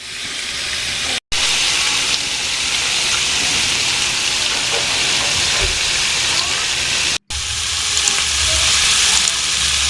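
Pork belly fries in a pan with a steady, close, fairly quiet sizzle and crackle that continues throughout, broken by two brief dropouts and a few faint clinks.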